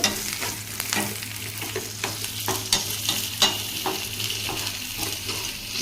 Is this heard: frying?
yes